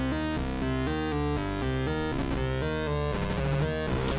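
Endorphines Godspeed eurorack complex oscillator with FM index raised, giving dirty, clashing, buzzy FM synth tones in a quick stepped note sequence, loud and continuous, with no talk.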